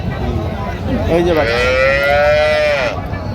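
A dairy cow with her calf at the Raniganj cattle market in Dinajpur gives one long, loud, rising moo close by, over a busy crowd hubbub.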